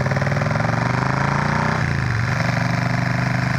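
A motorcycle engine idling close by, a loud, steady chugging rumble with a slight dip in pitch midway, alone without talk.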